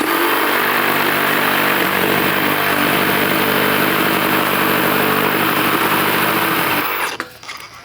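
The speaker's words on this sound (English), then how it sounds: "So let's try cutting in the reciprocating mode or the oscillating." A Makita GRJ02Z cordless reciprocating saw cuts in oscillating mode, a loud close buzzing rattle with a rapid steady stroke rhythm that runs unbroken for several seconds, then stops abruptly near the end.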